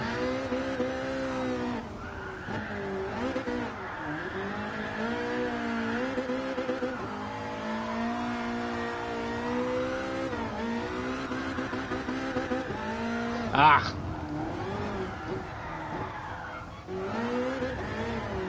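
A race car engine in the video game GT Sport screams at high revs and bounces off the rev limiter again and again, with shifting pitch and a brief squeal, loud and continuous.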